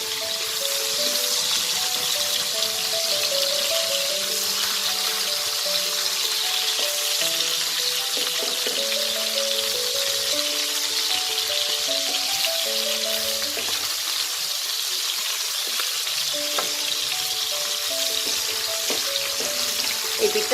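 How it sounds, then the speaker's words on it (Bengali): Hilsa fish pieces fry lightly in oil in a pan, giving a soft, even hiss of sizzling that runs on steadily, with faint clinks now and then. "মাছটা খুব হালকা ভাজবো, ইলিশ মাছ খুব বেশি ভাজতে লাগে না।"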